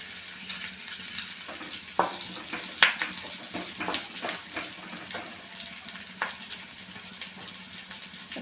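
Chutney ingredients, including tamarind and salt, sautéing in a pan, a soft steady sizzle with occasional stirring clinks and scrapes, quiet and close with no talk.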